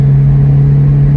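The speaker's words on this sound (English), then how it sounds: "this is pretty much the car running at its premium for a stock engine" A Toyota Corolla EE90's stock 2E engine runs with a steady, low droning hum, held at a constant pitch throughout.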